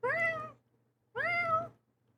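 A cat sound effect plays two clear, drawn-out meows about a second apart, each close and distinct against silence.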